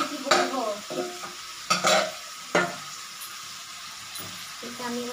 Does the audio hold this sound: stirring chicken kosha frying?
yes